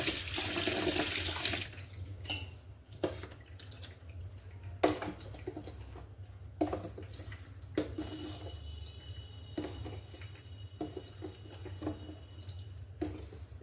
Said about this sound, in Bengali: এবার সাবুটার মধ্যে ঠান্ডা জল দিয়ে দেবো।